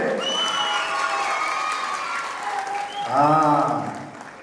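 Applause and cheering from an awards-function audience, a steady broadband crowd wash under a voice, swelling near the end as cheers and shouts rise over it.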